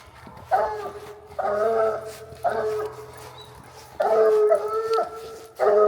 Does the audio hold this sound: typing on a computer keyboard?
no